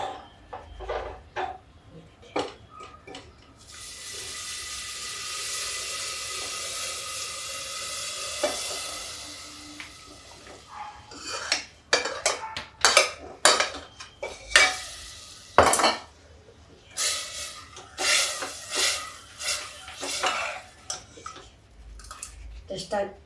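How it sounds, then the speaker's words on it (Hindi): Cooked chickpeas tip into a hot pan with a burst of sizzling frying, followed by repeated clinks and scrapes of a metal spoon stirring against the pan, loud and close in a home kitchen. "अब ये छोले जो हैं मैं सब इसके अंदर डाल देती हूँ"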